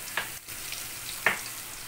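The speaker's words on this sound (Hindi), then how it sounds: "उसको हल्का सा फ्राई करना है" Garlic fries lightly in a little oil with a soft, faint sizzle, marked by two brief clicks of a utensil touching the pan.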